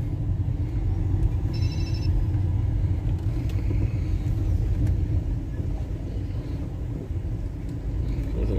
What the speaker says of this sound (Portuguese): Agora eu jogo meu carro ali naquelas vagas ali do meio.